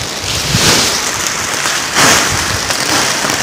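Heavy rain pours steadily, a dense hiss of drops pounding a surface, with brief surges in intensity and no voices.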